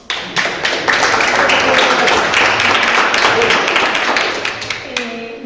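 Audience at a seminar on death studies breaks into loud, close applause, a dense burst of clapping that starts abruptly, holds steady for several seconds and thins out toward the end.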